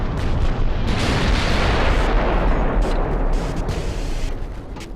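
Heavy naval gunfire in Ultimate Admiral: Dreadnoughts: dense, continuous booming artillery and explosions roll together in a loud, unbroken barrage during a dreadnought battle with torpedoes launched, tailing off slightly at the end.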